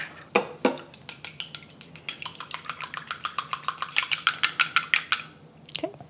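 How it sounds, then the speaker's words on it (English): Two eggs beaten with chopsticks in a bowl, a quick, steady run of light clicking taps against the sides, close and fairly quiet, speeding up slightly before stopping. "I need 2 eggs. Just going to beat them."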